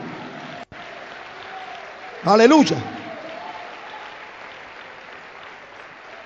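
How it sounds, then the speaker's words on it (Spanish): A church congregation applauds during a Spanish-language sermon, with steady moderate clapping running throughout and a brief shouted voice rising over it midway. "Una ofrenda de aplauso grande al Dios del Espíritu."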